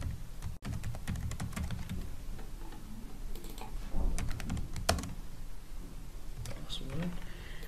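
Computer keyboard typing in a quiet room, a quick string of light key clicks and taps with a faint steady hum beneath, someone talking over it.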